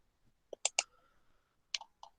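A computer mouse gives a few sharp, close clicks, two quick ones together, then a pause and two more, in an otherwise quiet room.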